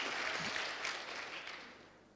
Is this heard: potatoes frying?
no